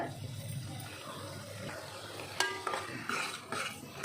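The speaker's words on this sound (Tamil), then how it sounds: "அவங்க பாட்டு வதங்கட்டும் அப்பப்போ கிளறி கொடுங்க" Masala for a street-style mushroom and chickpea gravy sautés in oil in a pan. A soft, quiet sizzle runs under scraping stirs, and a few sharper clinks of the spoon against the pan come near the end.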